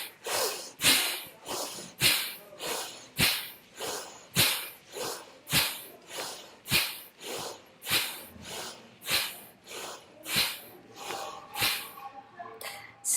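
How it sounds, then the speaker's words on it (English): Forceful rhythmic breathing during a guided meditation, about twenty sharp nasal exhalations in an even pulse, close and clear, each a quick snort-like burst with brief gaps between. "And now let's do the third round of breathing."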